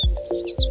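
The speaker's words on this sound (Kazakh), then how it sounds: "шырылдайды торғай" A sparrow gives short chirps, about three clipped, fairly close calls with a steady tone underneath, nothing else around them.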